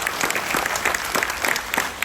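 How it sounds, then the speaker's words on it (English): A crowd on a cruise ship claps steadily after a Q and A, a dense patter of applause from a modest audience that holds even throughout. "Can we have a round of applause for everyone that asked"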